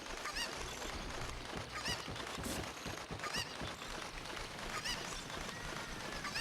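Cucco chickens in Zelda: Ocarina of Time Master Quest squawk in repeated sharp, honking clucks within a dense, continuous game soundscape, loud and busy throughout.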